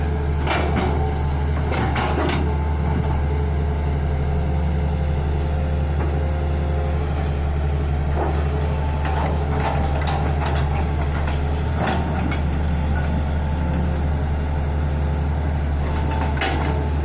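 A Hitachi backhoe excavator digging beside a canal: a continuous heavy diesel engine rumble close by, with intermittent clanks and scraping bursts from the bucket over the steady drone.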